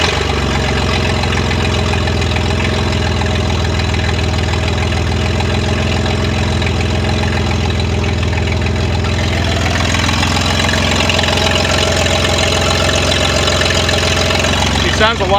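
A 1988 Ford F150 engine with an Offenhauser intake, on its very first start, idles steadily and loudly up close with a rough, knocking rumble and no exhaust fitted.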